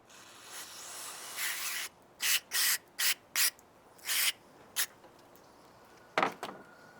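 Someone sprays a part of a stalling Mazda MPV: one long hiss, then about seven short, sharp spray bursts in an uneven rhythm, close and fairly loud.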